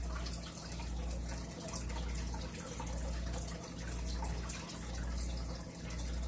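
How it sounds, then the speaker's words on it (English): A home fish tank bubbles and trickles with a steady watery wash, close and fairly quiet, with soft rhythmic dips in the flow. "You can hear the fish tank."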